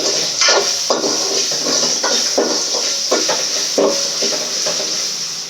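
Onion and curry leaves frying in oil in a pan for fish curry, a steady close sizzle with recurring bursts of crackle and stirring clatter throughout.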